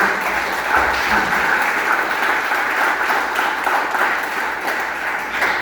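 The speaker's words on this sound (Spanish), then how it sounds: "Dale palmas al Rey del Rey." A church congregation claps their hands together, a thick, continuous roar of many palms that holds evenly loud throughout with no pauses and no voices over it.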